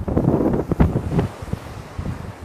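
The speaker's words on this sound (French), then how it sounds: "Et là il y a un vent" Outdoor wind buffets the microphone in loud, uneven gusts with rumbling bursts. It eases off briefly before picking up again.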